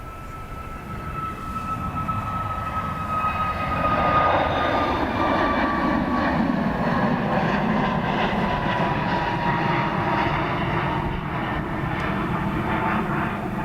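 A C130 Hercules aircraft taking off at Dublin Airport makes a loud, sustained propeller-engine roar that builds and holds, with a droning tone running through it.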